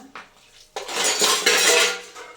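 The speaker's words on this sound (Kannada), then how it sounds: "ಸ್ವಲ್ಪ ಪಾತ್ರೆ ಇದೆ ಸಿಂಕಲ್ಲಿ, ವಾಶ್ ಮಾಡಿಬಿಡ್ತೀನಿ" Dishes clatter in a sink: a faint clink, then louder sustained scraping and clanking of pots and cutlery, close up, with no talking.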